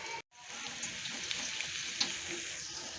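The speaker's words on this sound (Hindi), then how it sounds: "प्याज जिस हद तक हमें रिक्वायर थे हमने कर लिए हैं फ्राई" Onions fry in a pan for a karela gosht, a steady close sizzle with faint crackles throughout after a brief silent gap near the start.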